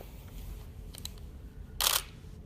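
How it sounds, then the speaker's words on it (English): A news photographer's camera shutter fires once in a quiet room: a sharp, bright mechanical click stands out clearly, preceded by a couple of fainter ticks. "Does your camera have silent shutter?"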